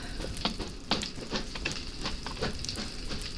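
Fire crackles and sizzles on a freshly crashed plane in Minecraft, in a Chernobyl-themed world. The burning is a steady, fairly quiet stream of pops and hiss with no voices.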